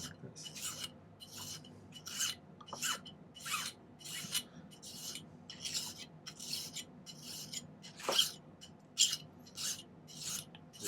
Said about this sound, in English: Got a little curve going on to it, so I think we'll just get the file in like this.